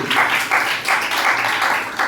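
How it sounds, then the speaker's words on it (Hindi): An audience claps together in steady, dense applause that pulses slightly and continues throughout, loud and close, at a gathering led by a Jain monk in Rohini, Delhi. "बहुत सुंदर, ताली बजाएं इनके लिए।"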